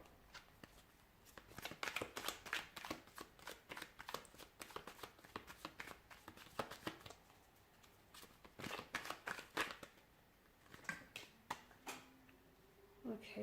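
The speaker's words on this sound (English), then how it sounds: "Give the cards a shuffle." Quick, crisp riffling of tarot cards being shuffled in bursts, close up and fairly quiet, with short pauses between rounds.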